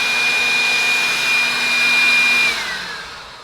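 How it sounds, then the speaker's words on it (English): A small cordless leaf blower runs in vacuum mode with a loud, steady high whine, then winds down in pitch near the end. "So now, when I vacuum up here,"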